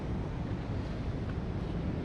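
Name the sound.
ocean waves at Karang Gigi Hiu rocky coast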